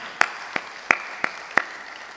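A few people clap in a small audience at a Hindi comedy show, five separate sharp claps spaced evenly over about two seconds, fairly close and thin rather than a crowd.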